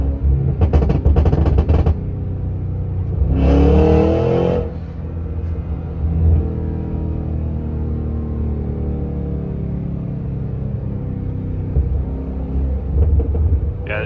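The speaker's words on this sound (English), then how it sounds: "it sounds like it has an exhaust on it." Deep rumbling engine of a 2023 Cadillac Escalade V SUV with an aftermarket-sounding exhaust, idling close by with a couple of louder revs that swell and fall, no voices.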